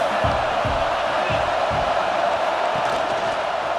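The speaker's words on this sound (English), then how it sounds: "This crowd trying to make life miserable for this offense." Stadium crowd in EA Sports College Football 26, a steady roar with rhythmic low chanting pulses, loud and continuous throughout.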